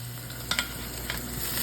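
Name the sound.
searing pot roast beef in a pan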